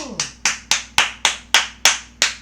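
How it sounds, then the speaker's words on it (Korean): Nine sharp, evenly spaced claps ring out one by one at a steady beat, close and fairly loud, as a speaker at a Korean political rally calls for applause. "박수, 박수."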